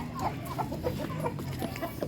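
A hen clucks repeatedly in short, soft bursts, close by, over a muffled background.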